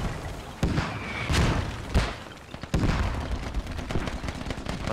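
Mortar shells landing during a match of the military shooter Squad on a forest map, several heavy distant booms spaced a second or so apart amid scattered crackling gunfire.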